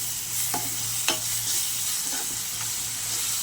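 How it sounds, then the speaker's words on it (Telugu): Ginger garlic paste frying with onions in hot oil for a Godavari prawn and raw mango curry, a steady loud sizzle under a few scraping stirs of a spatula, with no talk. "ఒక స్పూన్ అయితే అల్లం వెల్లి పేస్ట్ వేస్తున్నానండి ఇవి కూడా పోయి పోయేదాకా బాగా ఫ్రై చేసుకుందాం"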